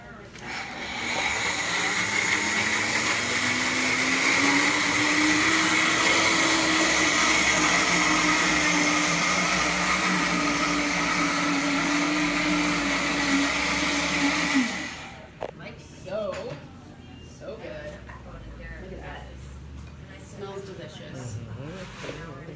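A kitchen blender whirs loudly and steadily through a butternut squash cheese sauce for about fifteen seconds, its motor pitch easing slightly, then cuts off into quiet handling noises; a voice talks over part of it.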